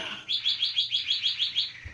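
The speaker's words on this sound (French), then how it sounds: "il y a des oiseaux derrière moi, les oiseaux" Small birds chirp behind the speaker in a quick, even series of about eight bright tweets, fairly close and alone with no talk.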